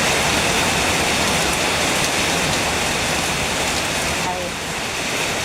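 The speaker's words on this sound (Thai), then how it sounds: "โอ้ฝนตกนักพี่น้องคะ" Heavy rain pours steadily outside a house in a dense, loud, continuous hiss of drops hitting surfaces, with no break across the stretch.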